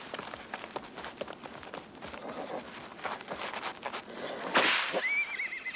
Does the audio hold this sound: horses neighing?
yes